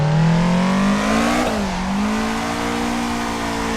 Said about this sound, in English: you can hear it on the revs when I lift off